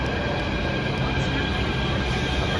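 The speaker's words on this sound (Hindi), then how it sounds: "एक तो मेट्रो आ गई" A metro train pulls into a busy station platform, its steady loud rumble and rushing noise filling the whole moment without a break.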